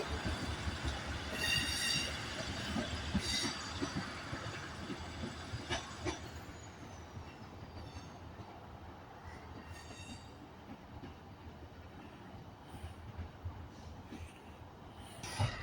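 Class 158 diesel multiple unit pulling into Carlisle station on the West Coast Main Line: a steady rolling rumble with wheel clatter and a thin squeal of wheels, moderately distant and gradually easing, with no voices.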